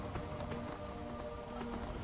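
A horse's hooves clop steadily while it is ridden through Skyrim Special Edition, a quick, even rhythm of soft strikes heard fairly quietly with no voice over it.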